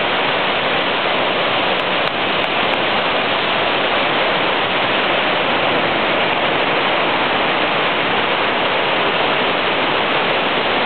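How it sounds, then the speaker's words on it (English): A big waterfall at La Fortuna near Arenal, Costa Rica roars as a loud, steady, unbroken rush of falling water. "Big waterfall, somewhere in Costa Rica."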